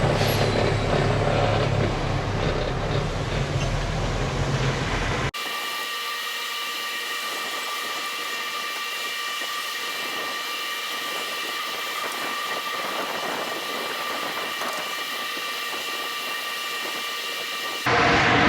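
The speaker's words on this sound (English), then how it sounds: "got one truck pulling off the scale, got another truck over here dumping" Heavy truck idling and rumbling at a grain elevator scale during corn harvest, a steady mechanical drone with a hissing, air-brake-like burst at the start before the engine noise settles into a continuous hum.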